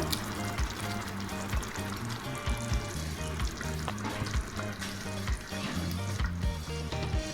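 Soaked urad dal tipped into a hot pan and frying, a dense continuous sizzle with bubbling and occasional stirring scrapes, close and steady throughout.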